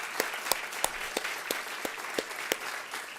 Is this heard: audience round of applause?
yes